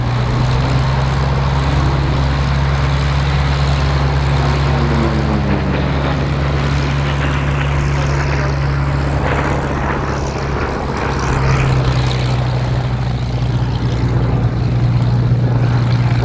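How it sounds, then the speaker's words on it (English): A Bearcat piston-engine fighter with a big radial engine roars past at an airshow, a loud steady propeller drone with a strong low hum that swells slightly as it nears, with no talk over it. "But the Bearcat, There it is, here it comes. This is quick, really quick."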